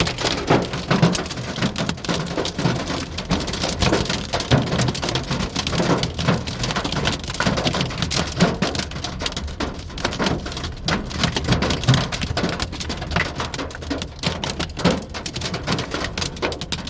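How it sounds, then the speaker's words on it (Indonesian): Hail pours down in Makkah, a dense, continuous hiss of ice pellets striking surfaces, loud and steady throughout with scattered sharper clatters. "Hujan batu, es batu."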